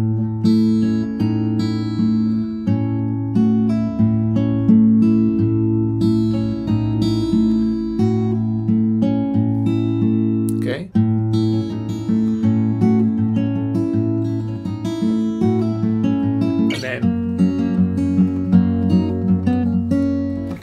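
Guitar plays two bars of a song slowly, with ringing fingerpicked notes over a steady low bass, close and sustained throughout with no talking.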